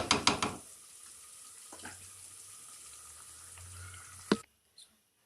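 Water is poured into a pot of cooking chickpeas for a chickpea and egg dish, a soft continuous pouring hiss with a few splashes at the start, then a brief clatter before it stops.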